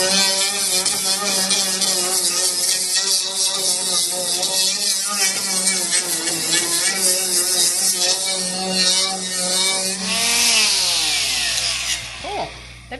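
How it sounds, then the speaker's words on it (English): A handheld angle grinder fitted with a flap disc sands wood, giving a loud, steady whine with a rough grinding edge close by, then a pitch shift as it spins down near the end. "Flapper disc. We'll sand a little wood."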